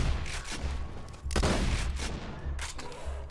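Borderlands 2 gun going off in repeated heavy bursts, loud and close, the shots cracking out in bunches with short gaps between them, no talk over it.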